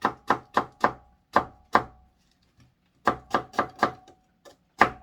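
A knife chops through fish cake on a cutting board in a home kitchen: crisp, close, evenly spaced strikes in a quick run of six, a pause, then another burst of five and a final single chop.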